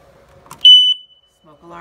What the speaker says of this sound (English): Smoke alarm is working.